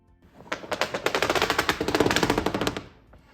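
A wooden tambour clatters in a rapid rattle for about two seconds as it is run over a hard surface, a dense string of clicks rising and fading.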